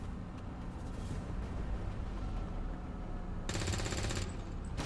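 Sustained automatic gunfire from an XCOM 2 battle, a dense rattling stream of shots over a steady background rumble, with a sharper, brighter burst near the end.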